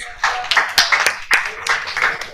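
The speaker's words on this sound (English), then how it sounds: "You should definitely give them a round of applause if you can" An audience at a concert claps in a few loose bursts, sparse and fairly close, rising and falling with uneven rhythm.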